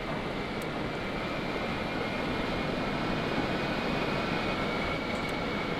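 A Y-Wing bomber aircraft in Scrap Mechanic flies with a steady, loud broadband roar and a faint high whine, unbroken for several seconds with no voices.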